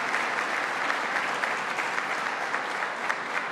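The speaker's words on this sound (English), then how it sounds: "Let's have them stand up and receive a round of applause." A government event audience in Western New York applauds steadily for the mayor and town supervisors, dense clapping held at an even level throughout with no talk over it.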